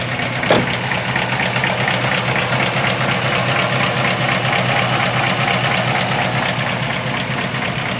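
A 1955 Ford wagon engine idles smoothly and evenly at close range, a steady low drone with a faint rhythmic pulse and no talking.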